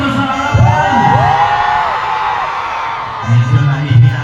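Live crowd in a large arena with an upper box, cheering and shouting in sustained, swelling roars of voices, loud and full with rising whoops near the end.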